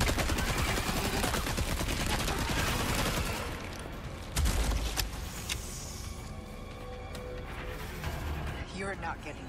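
Rapid gunfire from the Resident Evil 4 Remake rattles in dense bursts alongside heavy game effects, with a player talking over it.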